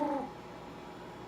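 A person voices a cat for a sock puppet, giving one short meow-like call at the very start that fades into quiet room noise.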